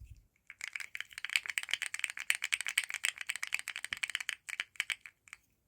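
Keyboard fidget toy keys pressed in quick, uneven succession, a dense run of small, quiet, crisp pops and clicks close up, with no voices.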